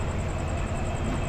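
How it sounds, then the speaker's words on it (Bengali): The Simanta Express departing a station, a dense, even roar of train carriages rolling by, loud and continuous through the short stretch. "আর এই যে ছেড়ে দিল এই ট্রেনটা"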